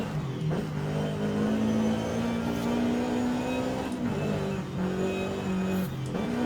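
Toyota GR86 with changed cams and a supercharger revs hard in Forza Horizon 5, a loud continuous engine note climbing and dipping through several shifts, with no talk over it.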